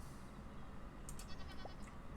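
A goat in a game world gives a few faint, thin bleats over a low ambient background hum, brief and distant-sounding, with no speech.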